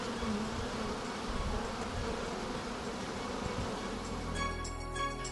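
A dense swarm of honeybees hums steadily around a beehive in an apiary, a close, continuous buzzing with no voices.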